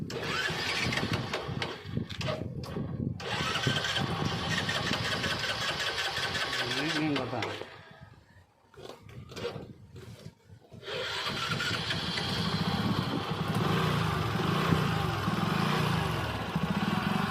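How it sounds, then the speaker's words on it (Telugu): A commuter motorcycle engine, given a carbon-cleaning treatment, starts and runs at an even idle, with a brief dip partway through before the steady running resumes. "ఇప్పుడు ఒకసారి ఇంజన్ని స్టార్ట్ చేసి చూస్తే చాలా నీట్గా స్మూత్గా మనకి తెలుస్తుంది"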